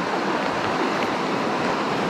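A mountain stream runs with foam spreading across its surface, a steady, close broadband rush of water without pauses or voices.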